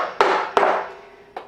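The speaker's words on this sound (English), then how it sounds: "just kind of whack away at it for a while with a hammer and a chisel or gouge" A hammer drives a chisel or gouge into an elm bowl blank: three sharp, loud woody strikes, each ringing briefly and decaying, spaced unevenly and close by.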